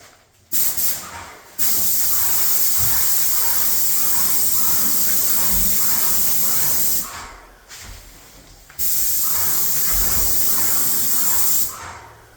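Long bursts of steady paint sprayer hiss while spraying trim, each running several seconds, with a brief pause between passes; loud and close.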